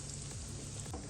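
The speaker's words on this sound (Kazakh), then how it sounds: "Одан кейін осылай қызып тұрған майымызға жақсылап қуырып аламыз." Breadcrumb-coated eggplant rolls sizzle steadily in hot oil in a pan, a close, continuous crackling fry with no voices.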